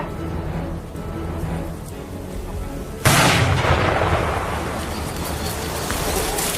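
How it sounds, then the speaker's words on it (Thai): After a few seconds of ambient noise, a single loud explosive blast booms nearby as an old mortar round is destroyed by a bomb disposal team, its rumble lingering and slowly fading. "จุดระเบิด เข้าที่กระเป๋า จุดระเบิด"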